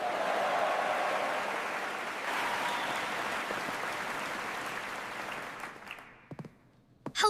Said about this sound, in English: Please give a huge round of applause for our wonderful student, dear Leo.